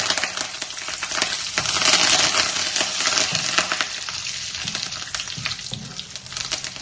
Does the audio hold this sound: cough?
no